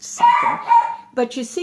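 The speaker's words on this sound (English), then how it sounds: "I'm sorry about the dog." A dog barks indoors in a few short, sharp yips under a woman's speech, close and fairly loud, breaking in near the end after she talks.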